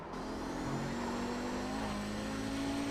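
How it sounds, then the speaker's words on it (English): Audi 90 GTO race car in iRacing on the Daytona road course, engine held at full throttle, a steady loud droning whine with pitch rising slowly, with no talk. "I got that gas pedal pinned to the floor"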